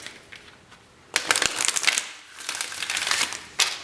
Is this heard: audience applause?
no